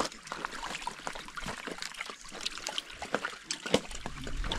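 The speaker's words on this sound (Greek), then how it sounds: "Εδώ αναβλύζει νερό, ε." Spring water welling up from the ground outdoors, a light trickle and splash heard under scattered bits of voices and handling noise, fairly faint overall.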